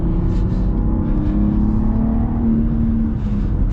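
A 2023 BMW M3 with a six-speed manual gearbox drives along a mountain road, its engine a steady close droning hum with a slowly rising tone and no one talking.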